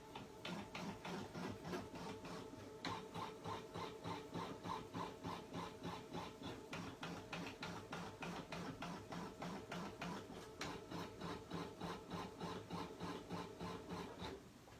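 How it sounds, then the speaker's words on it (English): A home sewing-embroidery machine runs basting stitches on fabric, a fast, even mechanical chatter of needle strokes that carries on steadily and close for the whole stretch. "Lower my foot, and I'm just going to hold it down. This will baste it into place."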